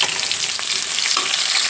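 Onion, green chilli and grated ginger frying in hot oil for ragi wheat rava upma, a steady close sizzle with brief stirring scrapes, no talking.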